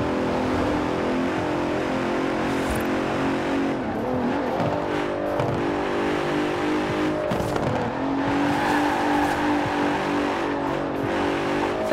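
A Bentley Continental GT Speed in Forza gameplay roars steadily at high revs, loud and close, with gear changes, brief dips and swells of the engine, and tyre squeal, sustained throughout.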